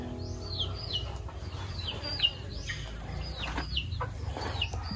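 A flock of chickens kept in numbers, clucking and chirping all around in overlapping calls with rising and falling tones, over a low background rumble.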